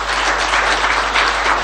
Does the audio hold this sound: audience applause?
yes